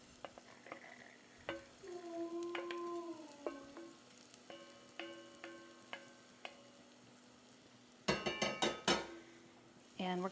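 Forbidden rice toasting dry in a pan with onions and garlic, with soft crackling and sizzling under steady stirring, a few spoon clinks against the pan, and a louder burst of scraping near the end.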